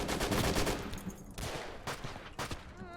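Mounted machine gun fire in the WWII strategy game Call to Arms - Gates of Hell, a rapid rattling burst up close followed by a few separate heavy shots spaced apart.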